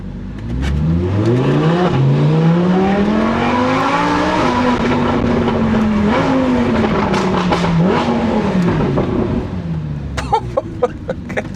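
A Lamborghini Huracán supercar with VOS performance exhaust roars close and loud, its engine note climbing and dropping through repeated gear changes as it accelerates hard, then easing off with a few crackles at the end.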